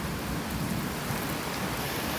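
Rain pours steadily onto banana and parijat trees, a dense, even hiss that stays constant throughout.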